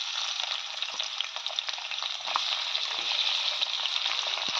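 Onions fry in hot oil in a pan alongside bay leaves, a steady, close, bright sizzle with occasional stirring clicks, continuous throughout and with no voices.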